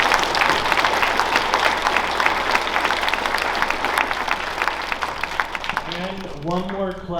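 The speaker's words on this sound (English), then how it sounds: "can I give another round of applause for my student speakers today?" A school audience at a Veterans Day program claps for student speakers, a steady dense round of applause with voices mixed in that tapers near the end as a voice begins speaking.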